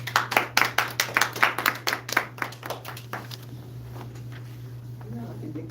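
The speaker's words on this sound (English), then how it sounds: "I think they clap first." A church congregation applauds as a reverend is welcomed to give messages from Spirit, a few seconds of brisk, fairly close clapping that thins out and fades into room murmur over a steady low hum.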